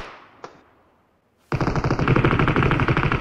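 Sustained machine gun fire in a video game breaks out after a near-silent pause with one faint click, then continues as a loud, dense, rapid burst.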